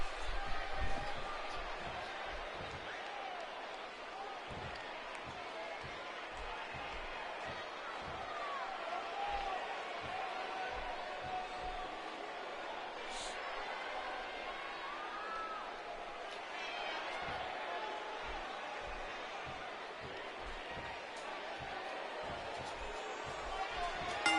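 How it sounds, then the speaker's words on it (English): Loud wrestling arena crowd in Toronto, a steady roar of cheering and chatter with scattered thumps and bangs throughout, filling the whole space without letting up. "I don't think I've heard a Toronto crowd this loud since we were in the Dome for WrestleMania 18"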